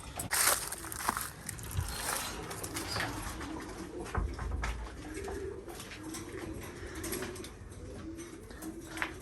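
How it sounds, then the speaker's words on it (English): Competitive racing pigeons from a loft, a red pair's offspring among them, cooing softly in repeated low throaty phrases close by, with occasional wing flutters and scuffling. "These are really competitive racing pigeons right here"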